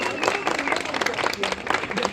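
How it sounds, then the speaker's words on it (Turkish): Wedding guests at a staged civil ceremony in Istanbul's Lifepark Qubbe garden give the groom a hearty round of applause, dense clapping that fills the space with voices mixed in. "Bir kuvvetli alkış efendim damat bey için"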